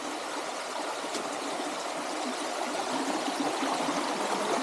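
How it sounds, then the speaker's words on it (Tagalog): A small waterfall feeding a stream on a rural farm property gives a steady, even rush of falling water, constant and fairly close, with no voices over it. "May mini waterfalls."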